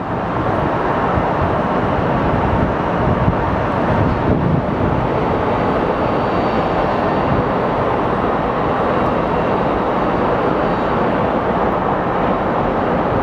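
A Frontier Airlines jet at Phoenix Sky Harbor Airport gives a continuous loud, broadband engine roar that holds steady throughout, heard alone with no talking.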